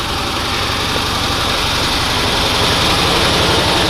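A Cushman engine with newly fitted ignition points idles with the choke off, giving a steady, loud, close mechanical chug that runs evenly throughout with no other sounds.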